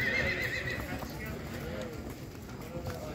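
Horses neighing and whinnying at a Tashkent horse market, with a shrill, wavering whinny up front over steady crowd noise and hoof clatter, and more calls further off.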